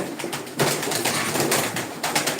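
Domestic pigeons in a loft give a busy, close wash of soft cooing and rustling, steady throughout with a slight swell partway through.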